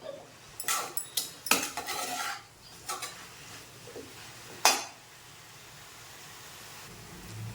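Spinach (palak) being sauteed and stirred in a pan, a run of sharp scraping and clinking strokes from a utensil against the pan, then a single louder scrape and quiet gentle frying afterward.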